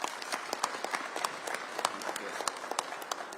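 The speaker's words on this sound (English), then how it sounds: "Please, a big round of applause." Audience at an investment conference during SADC Industrialisation Week applauds, steady moderate clapping from a crowd filling the hall without talk over it.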